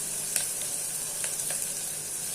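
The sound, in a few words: ground tomato added to sizzling onion-chilli tempering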